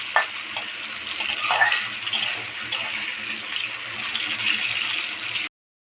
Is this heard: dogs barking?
no